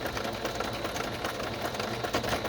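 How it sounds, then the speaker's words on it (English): A sewing machine runs steadily, making a quick back stitch to seal a seam in fabric for a soft-cover fabric junk journal. The whir is loud and continuous at close range, with no speech. "now I'm going to just do a little back stitch to seal it"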